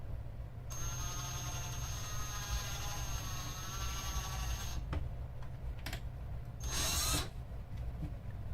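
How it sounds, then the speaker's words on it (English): A power drill whirs steadily for several seconds while cleaning out holes in a woodworking project, then cuts off, followed by a couple of short bursts and one last brief spin-up, close and loud. "I'm going to try to clean these holes out a little bit with the drill"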